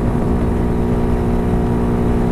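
Honda Hawk DLX dual-sport motorcycle after a sprocket and chain upgrade, engine droning steadily at high speed with a constant loud hum and faint rising pitch, no talk over it.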